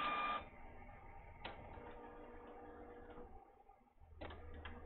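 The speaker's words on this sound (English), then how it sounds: "Printer, your purpose is to print FedEx labels, not this nonsense. And it's printing a 3rd page for no reason." An office printer churning out a third page, with a steady low mechanical whir broken by sharp clicks and brief ratcheting bursts of paper feed, close and fairly quiet in an otherwise still room.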